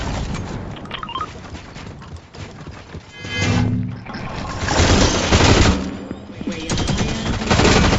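Fortnite gunfire striking a raised shield: several rapid shots cracking in bursts, growing louder and denser toward the end, over a continuous game background.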